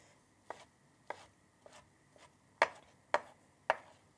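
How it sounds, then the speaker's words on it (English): Knife slicing through rolled-up ham on a cutting board: six crisp, evenly spaced chops, the last three louder and closer, with no talk over them. "And we're just going to roll it up and then just finely slice it."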